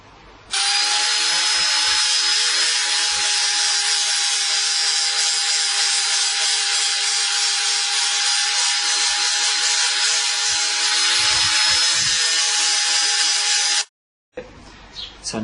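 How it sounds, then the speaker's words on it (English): An angle grinder works the top edge of a knife's bevel, keeping off the sharp edge, with a loud, steady high whine that runs unbroken for about thirteen seconds and then cuts off abruptly. "I'm going to grind just the top edge of the bevel, not touch the sharp edge"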